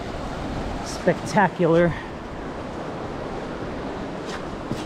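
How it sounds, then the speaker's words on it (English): Snowmelt creek rushing through a canyon on Pipe Creek in Grand Canyon National Park, Arizona, a steady broadband wash of flowing water throughout, with a person speaking briefly over it. "Going through this canyon that has a creek."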